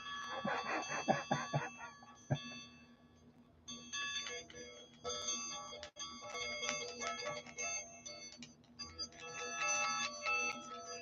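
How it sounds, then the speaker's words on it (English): Small bells chime and jingle repeatedly, bright and fairly faint, with a brief voice early on and soft background noise. "Can you hear the bells?"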